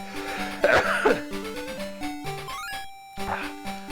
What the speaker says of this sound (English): Sneeze coming, sorry, one sec.